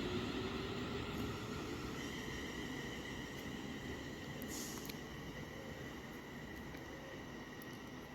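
A Class 350 electric train pulls out of Leighton Buzzard station with a steady, fairly distant rumble and a faint rising whine, heard with no talking.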